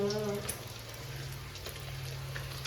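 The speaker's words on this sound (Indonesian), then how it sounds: "Ambil ya, goreng tempe ya." Tempeh fries in hot cooking oil with a soft, steady crackling sizzle and sporadic pops, heard at low level, with a brief murmur of speech at the start.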